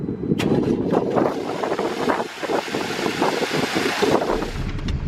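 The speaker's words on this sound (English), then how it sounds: "motor sounds pretty good" Used car engine idling just after starting during a dealer pickup, a low, steady rumble mixed with wind buffeting the microphone outdoors, with no voices.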